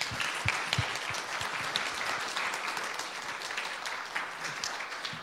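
An audience applauding steadily, many hands clapping together in a dense, even wash of sound that carries on throughout without pause.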